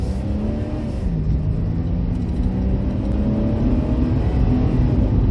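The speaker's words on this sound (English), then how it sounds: "we're going to go now and have some acceleration" A classic car accelerates along the A31 just outside Winchester, its engine note rising steadily in a continuous close, loud drone with a rumbling low end and no voices.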